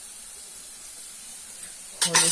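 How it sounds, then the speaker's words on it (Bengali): Potatoes and mung dal fry together in a pan with turmeric, giving a steady, soft, even sizzle throughout, then a brief louder burst near the end as a voice begins to speak. "আলু আর ডাল একসঙ্গে ভাজা হবে তাহলে ভালো করে"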